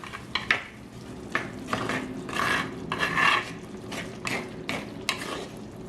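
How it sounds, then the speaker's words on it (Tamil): Irregular scraping and stirring of a spoon in a pan of chicken heart pepper curry with coconut milk, bursts of rasping strokes against a faint sizzle, close up with no talking. "இப்போ இதை நல்லா மிக்ஸ் பண்ணி விடுங்க."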